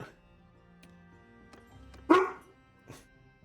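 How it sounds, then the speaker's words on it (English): Neighbor's dogs bark and howl off in the distance, one sharp louder bark standing out followed by a fainter yelp, faint against a quiet room. "My neighbor's dogs are barking."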